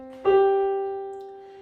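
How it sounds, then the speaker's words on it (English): One piano note, middle C, struck once, close and clear, ringing out and slowly fading. "This is the sound of middle C."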